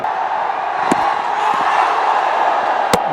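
A cricket stadium crowd at a Ranji Trophy match makes a steady, dense roar of cheering and noise, with a couple of sharp, brief thumps standing out above it.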